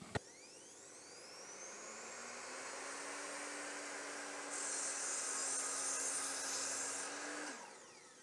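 A miter saw cuts a board at a 45-degree angle: a sharp click, then the motor whines up to a steady high drone that grows louder and brighter as the blade bites through the wood, ending abruptly as the cut finishes.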